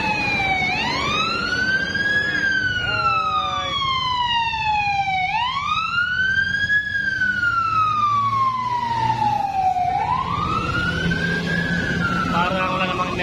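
A fire truck from the Bureau of Fire sounds a wailing siren that sweeps up and down repeatedly in pitch, loud and continuous, with a low engine rumble beneath it.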